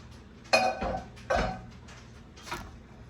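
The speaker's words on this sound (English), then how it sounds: "And then I'm just taking the spatula and swishing it around to get all of that delicious sauce out" A spatula scraping and clinking against a container of homemade steak sauce: two sharp knocks followed by softer scrapes and a final faint tap, close and quiet with no talk.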